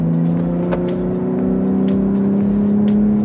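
A Steeda F-150 Raptor truck on 37-inch tires drives along a street, its engine a steady, close low rumble with faint road noise, heard alone without talk.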